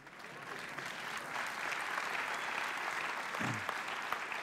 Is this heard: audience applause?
yes